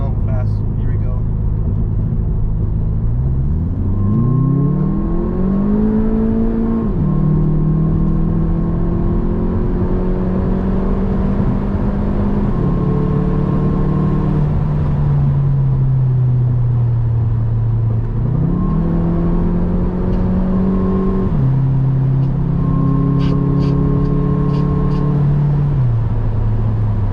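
Car exhaust heard from inside the cabin with the windows up as the driver accelerates fast, repeated rising engine sweeps through several gear changes, loud and steady droning between shifts.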